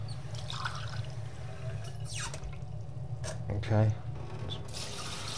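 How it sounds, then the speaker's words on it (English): Water poured into a half-cup measure for cooking rice, a brief close splash in a kitchen, with a person talking around it. "so we want half a cup of water again."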